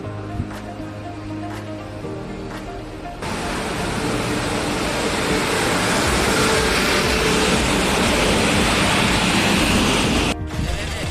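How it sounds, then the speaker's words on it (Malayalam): A train rumbles toward a railway station, a steady broad roar swelling from around three seconds and holding loud and close until near the end, with a few sharp clicks early on. "ട്രെയിൻ അങ്ങനെ ദൂരത്തു നിന്ന് പുറപ്പെട്ടിട്ടുണ്ട്"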